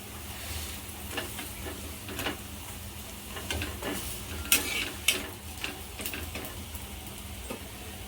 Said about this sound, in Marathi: तव्यावरचं थालीपीठ पण मस्त खमंग भाजलं बघू शकता तुम्ही